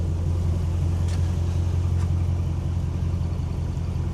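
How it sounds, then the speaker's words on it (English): A truck engine idles steadily nearby while warming up, a low, constant exhaust-pipe rumble with no change in pace, and nothing else but a couple of faint clicks. "you hear them pipes, you hear it. I got the truck warming up"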